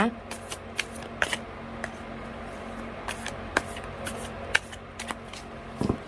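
Tarot cards are shuffled by hand at close range, with soft riffling and sharp slaps in irregular bursts over a faint background hum.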